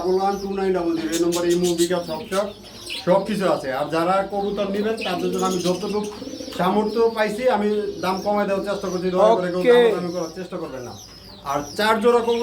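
Pigeons coo and other birds call at a market stall selling pigeons, chickens and quail, partly buried under loud, nearly continuous talking.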